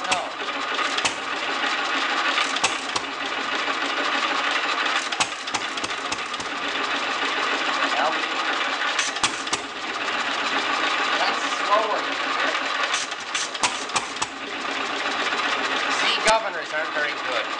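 A 1929 Fairbanks Morse Z engine idles with a dense, continuous mechanical chugging and clatter, loud and close throughout, with irregular knocks and pops and occasional voices underneath.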